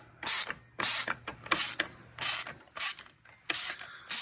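Ratchet wrench clicking in repeated bursts as the final bolt comes off a dirt bike's wheel assembly in a home garage, about six short ratcheting runs with brief pauses between, close and clear.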